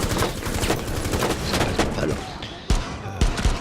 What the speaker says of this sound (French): Vous voyez que le pistolet automatique que j'utilise actuellement